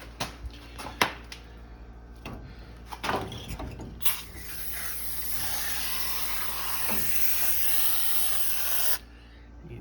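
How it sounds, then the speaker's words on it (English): A garden hose sprays water onto an air conditioner's condenser coil, a steady broadband hiss starting after a few scattered knocks and thumps and running loud and continuous for several seconds before cutting off abruptly. "use a garden hose. I'm gonna spray it out."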